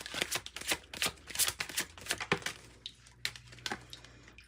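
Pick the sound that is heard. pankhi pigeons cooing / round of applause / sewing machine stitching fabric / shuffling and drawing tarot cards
shuffling and drawing tarot cards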